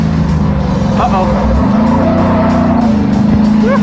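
A rear-engine mini truck with four-wheel drum brakes races on a road course, its engine droning loud and steady with pitch sweeps as it shifts and corners, and faint tire noise underneath.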